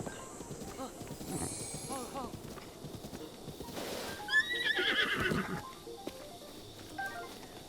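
A horse in Zelda: Breath of the Wild gives a sharp neigh and whinny amid rhythmic hoofbeat clip-clops, all fairly quiet, with a brighter whinny around the middle.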